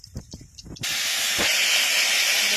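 Vegetables dropped into hot oil burst into a loud, steady hissing sizzle that carries on close and continuous after a few quieter bumps and knocks just before.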